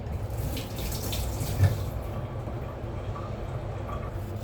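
Tap water running to wash dropped garlic while cooking chicken adobo, a steady close rush of flowing water with one brief knock partway through, continuing without a pause.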